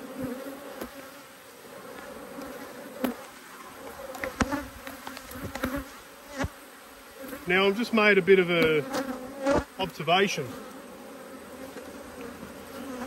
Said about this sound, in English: What colour are the bees that are coming at me?